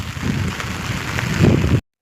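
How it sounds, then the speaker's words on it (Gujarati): Light drizzle falling outdoors under a dark, overcast sky, a steady soft patter of drops on surfaces, fairly close and even, with no talk, cutting off abruptly near the end. "ઝરમર આવે છે"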